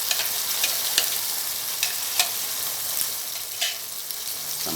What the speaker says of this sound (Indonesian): Bumbu dapur yang telah dihaluskan digongseng